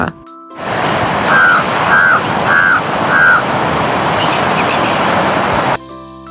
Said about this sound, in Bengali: কাক ডাকে কা কা।